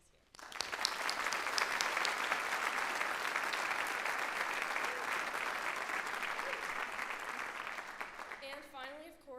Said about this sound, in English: let's give one big round of applause to all of our nominees here